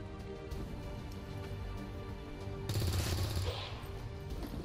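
Gunfire in the video game XCOM 2, a burst of shots standing out briefly over a faint game soundtrack, with no talk.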